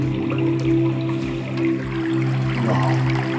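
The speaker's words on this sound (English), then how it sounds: "Put waterfall music just to check it out." Waterfall sound played back through a JBL Charge 4 Bluetooth speaker, a steady continuous rush with a low, slightly pulsing hum throughout, moderately loud and unbroken for the whole stretch.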